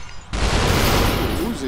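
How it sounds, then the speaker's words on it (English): Sustained Uzi gunfire in the VR game Superhot VR bursts in suddenly and holds as a dense, loud, continuous rattle of rapid shots with no pauses. "Uzis."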